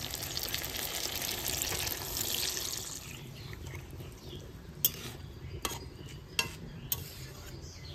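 Water poured into a cooking pan of koi fish and aubergine after a plate is rinsed, a hissing rush of liquid for a few seconds followed by a handful of sharp clinks of utensils against metal.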